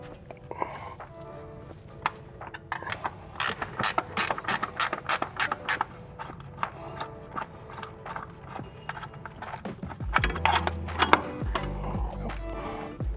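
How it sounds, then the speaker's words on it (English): Ratchet clicking in rapid bursts while loosening front control arm bolts threaded into the body of an Audi B9, close and crisp with short pauses between runs, plus a heavier clunk of parts near the end. "I'll just loosen up these bolts on both sides"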